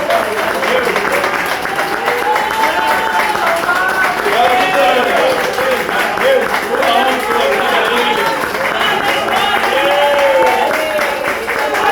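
Church congregation applauding and cheering during a worship service, a dense, continuous wash of crowd noise with voices and singing-like tones mixed in throughout.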